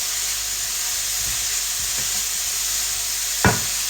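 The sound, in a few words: sautéing country chicken with cinnamon and chili powder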